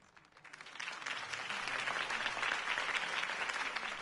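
Crowd applause following a campaign speech in the video game Batman: The Telltale Series, swelling in from quiet to a sustained, dense wash of many clapping hands.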